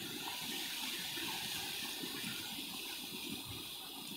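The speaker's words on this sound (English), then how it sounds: "It's a pretty significant flow of water." Floodwater at Slab City, two to three feet deep, rushes in a significant flow as a loud, continuous broadband gush and roar of moving water, steady and close, with no talking.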